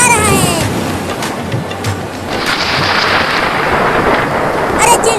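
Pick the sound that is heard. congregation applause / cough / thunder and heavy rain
thunder and heavy rain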